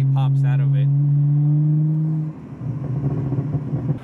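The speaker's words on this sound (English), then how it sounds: "just tap the gas and it'll make it burble" A BMW fitted with an MHD burble tune rumbles close by with a deep, steady exhaust drone. The drone then breaks into a choppy, crackling burble, and a voice speaks briefly at the start.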